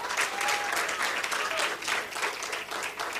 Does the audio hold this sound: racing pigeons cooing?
no